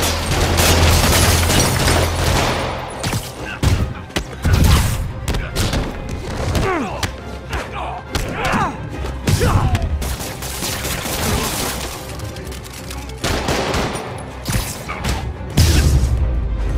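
Combat sounds in a Spider-Man video game: bursts of gunfire, thumps and crashing impacts come in loud irregular clusters, with quieter gaps between them.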